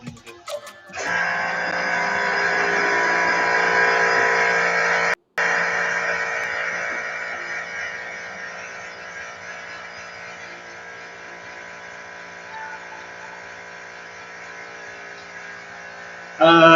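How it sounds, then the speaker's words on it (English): A vacuum pump runs while degassing resin, a steady electric drone with a brief cutout partway through, loud at first then settling slightly quieter, continuous to the end. "And while the vacuum pump is going,"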